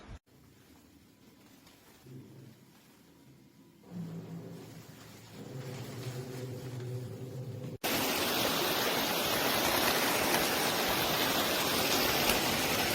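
Steady rain falls on someone wearing a lightweight waterproof poncho, starting faint and growing heavier, then jumping to a loud, dense, close hiss of downpour for the final seconds with no voices.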